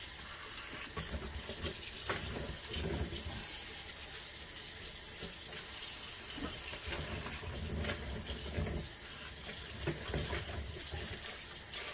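Fresh coconut pieces being rinsed under a running tap into a small strainer, water pouring steadily with a soft continuous splash and hiss, close and fairly quiet.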